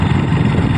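A tractor engine runs close by with a steady low rumble, unchanging over a brief moment with no voices.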